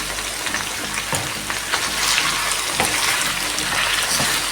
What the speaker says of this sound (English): I'm going to add the boiling water now to speed to help cook the meat